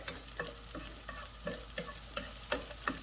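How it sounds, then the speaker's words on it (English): Onion and pepper stir-frying in a pan of hot oil for General Tso chicken, a steady sizzle broken by regular scraping stirs about every half second, close and moderately loud with no talking. "And then we're gonna add in the onion and the pepper. Stir fry a little bit until aromatic."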